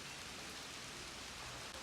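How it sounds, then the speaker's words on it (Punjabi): Steady rain pours down over a farm with a dairy and rice crop, a continuous even hiss filling the whole moment with no voices. "ਇਹ ਵੇਖ ਸਕਦੇ ਹੋ ਬਾਰਿਸ਼ ਹਲੇ ਵੀ ਲੱਗੀ ਹੋਈ ਹੈ।"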